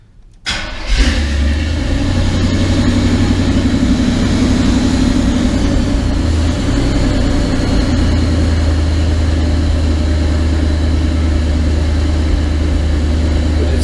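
A 1980 GMC engine fitted with a Holley Sniper fuel injection cranks over and catches, then settles into a loud, steady, cold high idle that drones on close to the listener without a break.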